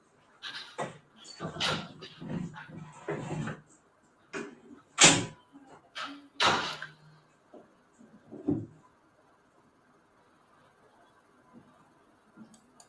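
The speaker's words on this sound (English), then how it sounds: "so you hear the door close" A door shuts with a few sharp knocks and thuds at close range, scattered among other brief bumps and movements in an otherwise quiet room.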